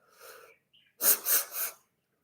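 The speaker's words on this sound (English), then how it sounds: "You can always do like 3 more inhales like this, per sleep breathing." Deep repeated breathing inhales during a lung capacity test: a faint breath first, then three strong, close, forceful inhales in quick succession, each broad and airy, followed by silence.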